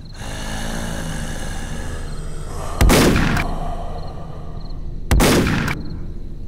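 Two loud, close shotgun blasts in the VR zombie game zGame, each a sharp boom with a short decaying tail, about two seconds apart over a steady game background hum.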